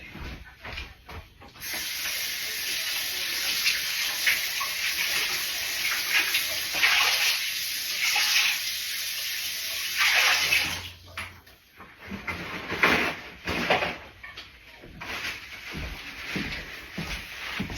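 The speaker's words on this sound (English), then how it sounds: "let me rinse my lid off. I always rinse them off." A plastic container lid is rinsed under a running kitchen tap, the water hissing and splashing steadily with shifts as the lid moves through the stream, then breaking into intermittent splashes near the end.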